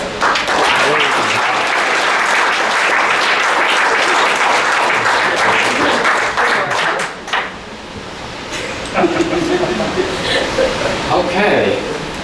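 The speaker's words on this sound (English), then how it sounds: "So I'd like to give everyone a large round of applause" Audience at a psychology symposium festschrift gives a round of applause, full clapping for about seven seconds that then drops off abruptly, followed by a voice speaking over shuffling and light noise.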